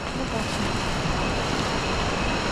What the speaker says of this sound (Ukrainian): щось там чуєте, шумить, водоспад той, жучки кричать